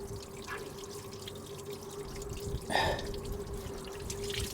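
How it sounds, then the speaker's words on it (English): Clear water trickles and drips steadily from a hose on a Cadillac Fleetwood Brougham, a light continuous flow with a brief louder splash partway through, close by and with no talking. "We got clear water coming out."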